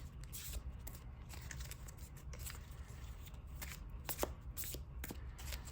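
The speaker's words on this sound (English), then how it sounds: "So let's get our shuffle rolling here." A deck of trading cards is riffled and mixed by hand on a tabletop for a card game match, its dense, continuous papery flutter near and steady, with a few sharper snaps toward the end.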